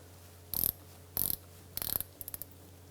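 Brake bleeder screw on a 1994-2002 Dodge Ram 2500 being snugged up with a ratcheting wrench, three short close clicking bursts followed by a few faint ticks, no talk.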